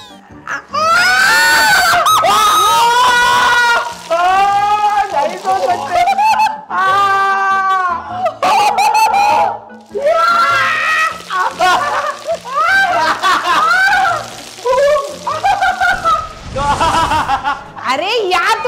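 A group of people scream, shriek and shout loudly in a very cold room during a 24-hour survival challenge, with high, wavering yells and bursts of laughter coming close and almost nonstop.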